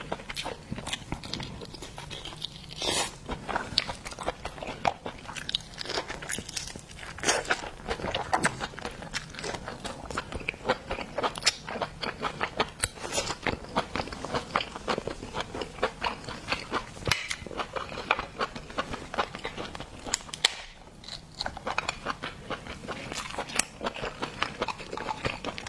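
Crab claws being bitten and eaten up close make dense, repeated crunching and cracking with chewing throughout, loud and continuous with only a brief lull.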